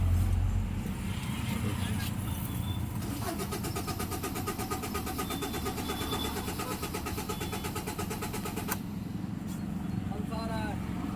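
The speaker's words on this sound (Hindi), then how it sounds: "अब जो है हमारी गाड़ी को हम सेल्फ लगा करके स्टार्ट करने की कोशिश करेंगे तो नहीं होगी।" Car engine cranking on its self-starter without catching during ECU fault diagnosis, a steady rapid whirring of the starter motor over several seconds between quieter stretches, with someone talking over it.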